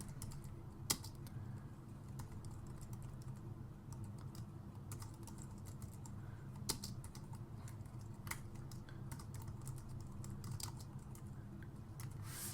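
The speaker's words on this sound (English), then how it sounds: "I just type it out because it's a lot faster for me." Rapid, continuous typing on a computer keyboard while writing code in Xcode, the keystrokes a dense steady patter with a few louder taps, close and clear, no voices.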